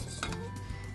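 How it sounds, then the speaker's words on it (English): A lid is set onto a pot of boiling quinoa in a home kitchen, giving a quick pair of metallic clinks and clatter. A low hum sits underneath, and nobody speaks. "I'm going to put my lid on"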